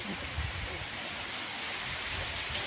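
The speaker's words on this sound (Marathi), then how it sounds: "बदा बदा पाऊस येतो" Heavy rain falls in a village in a continuous, even hiss that is soft and somewhat distant, without a break.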